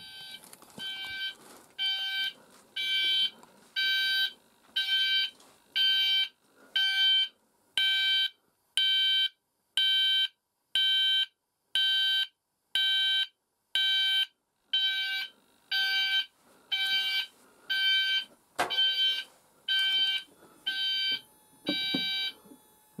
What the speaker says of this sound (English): let's go and do a find device for the sounder strobe